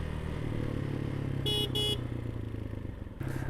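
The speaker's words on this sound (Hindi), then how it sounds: "साउंड भी अच्छी है, हॉर्न बजा के देखूं।" Two short honks from the horn of a CF Dual Lite 230 dual-sport motorcycle, close and clear over the bike's steady idling engine.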